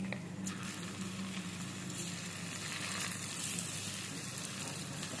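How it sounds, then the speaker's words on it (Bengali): Marinated chicken goes into hot oil tempered with cardamom, cinnamon and dried red chillies, giving a soft, steady sizzle with faint crackles nearby and no voices. "ফোড়নে দেওয়ার পরে ম্যারিনেট করা চিকেন গুলো দিয়ে দেবো এবারে"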